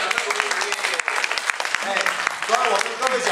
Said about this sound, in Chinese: 要不要给我掌声？